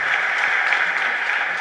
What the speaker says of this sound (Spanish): Fuerte aplauso entonces para todos